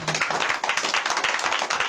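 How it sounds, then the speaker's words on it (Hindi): Quick rhythmic hand clapping from a church congregation, loud and close, keeping a steady fast beat throughout. "ताली बजा सकते हैं।"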